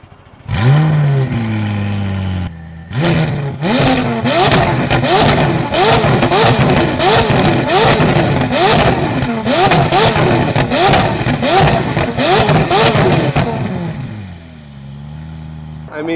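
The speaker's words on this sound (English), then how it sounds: "you guys gotta hear the McLaren" A McLaren supercar engine fires up with a loud bark, settles briefly, then is revved hard about a dozen times in quick succession, each sharp blip rising and falling before it drops back to a low idle.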